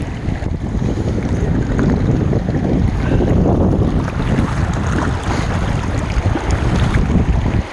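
Strong wind roars steadily across an outdoor microphone, a loud, constant buffeting rush with low rumble and no pauses.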